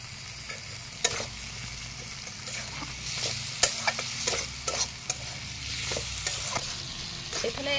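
Drumstick flowers and chopped tomato are stir-fried in a pan, a soft continuous sizzle broken by frequent close scrapes and clacks of the spatula, with no talking.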